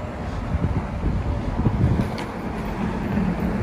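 Strong wind gusting across the microphone on the Benjamin Franklin Bridge walkway, a rumbling low buffeting that swells and eases irregularly, with a faint distant hiss of traffic behind.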